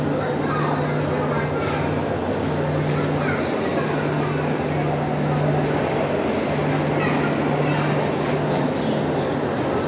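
Diesel locomotive idling at Chennai Egmore station before the Boat Mail Express departs, a steady low hum with a constant tone running throughout amid busy platform noise and voices.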